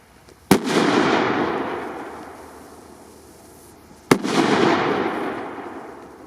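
Two Exploder 4 firecrackers go off outdoors about three and a half seconds apart, each a sharp, loud bang followed by a long rumbling decay that fades before the next blast.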